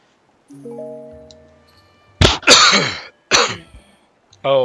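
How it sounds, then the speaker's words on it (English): A man coughs hard straight into a close microphone during a Legend of Zelda Breath of the Wild playthrough: two or three loud harsh coughs, then a breath, following some soft game chimes. "I think I just coughed right in the microphone"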